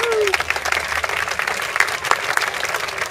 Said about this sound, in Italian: Intanto un applauso fortissimo a Linda Samoni e Giada Benesperi